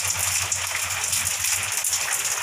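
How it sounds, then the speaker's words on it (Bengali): Heavy rain pours down at night in a village home, a dense, steady hiss that continues without a break for the whole stretch, close by and with no voices over it. "আর দিকে বৃষ্টিও পড়ছে জোরে"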